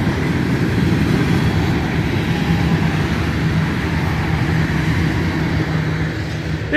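Freight train of oil tanker cars passing close by in river bottoms, a continuous heavy rumble and rattling wheel noise holding steady, then easing slightly toward the end.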